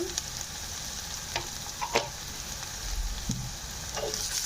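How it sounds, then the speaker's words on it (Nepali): Onion fries with turmeric in a pan and is stirred, giving a steady close sizzle with scraping spoon strokes and small clatters over a few seconds. "यसरी चलाइदिँदैछु म। र यो प्याज हल्का फ्राई भइसकेको छ"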